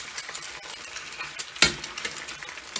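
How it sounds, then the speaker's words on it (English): Tortilla chips coated in egg are tossed and scraped around a hot frying pan, a steady soft sizzle under scratchy stirring with one sharper clack of utensil on pan. "Really try and toss these so that the chips get coated in the egg a little bit."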